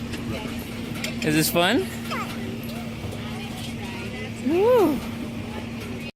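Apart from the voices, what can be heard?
tractor engine during hayride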